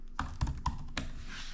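Fingers type on a computer keyboard close by, a handful of soft, uneven keystrokes against a low background hum.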